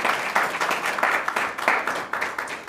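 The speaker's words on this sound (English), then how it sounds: "big round of applause" Applause from a meeting audience at a PMI chapter event thanking sponsors, a steady, moderately loud patter of many hands clapping together with slight rhythmic swells throughout.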